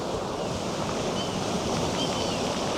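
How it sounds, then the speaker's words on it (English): Waves crashing on rocks and pebbles along the Moray coast, a steady, loud roar of surf with a rushing hiss and some wind noise throughout. "listening to these waves coming up, crashing off the rocks and the pebbles"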